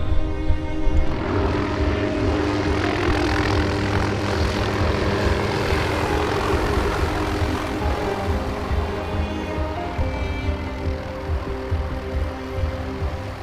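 A helicopter used for a desert bighorn sheep capture flies overhead, its steady rotor and engine roar loud and continuous throughout, with no voices.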